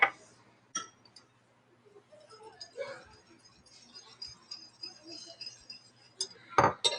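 Fresh ahi poke ingredients are tossed in a bowl, giving scattered soft clinks and scrapes of utensil against dish, with a few sharper taps near the end.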